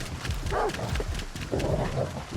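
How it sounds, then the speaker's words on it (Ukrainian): Dogs in the S.T.A.L.K.E.R. 2: Heart of Chornobyl video game let out two short rough barking or growling bursts a second apart, moderately near, over low game ambience. "Тут же собаки во все."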